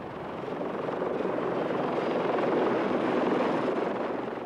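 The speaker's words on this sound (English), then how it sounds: "The destroyer's Lynx helicopter begins a sweep to get a closer fix on the target" A Royal Navy Lynx helicopter lifting off from the destroyer Cardiff at sea in the Caribbean, its rotor and engine making a steady broadband roar that swells slightly and then holds, with no speech.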